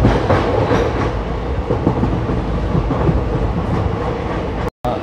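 The 22137 Prerna Express runs from Nagpur toward Akola with a loud, steady rumble of wheels and rattling carriages heard from on board, with faint clickety-clack beats and a brief dropout near the end.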